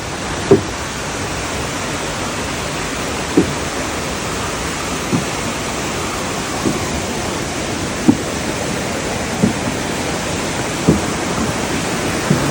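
A waterfall rushes in a steady, broadband roar seen from a trail observation area, continuous and even with no voices, broken only by faint periodic clicks or taps.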